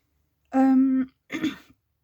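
A short voiced throat-clearing sound is followed by a rougher cough from a person with a pollen allergy, close and alone.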